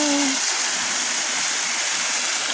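Steady, loud rushing roar of a waterfall heard from the top of the falls on a woodland backpacking hike, a dense, unbroken wash of water noise throughout with a brief voice at the very start.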